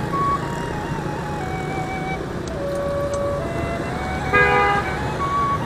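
Busy Hanoi street traffic, motorbikes and cars rumbling steadily close by while several horns toot at intervals, with a burst of overlapping honks near the end.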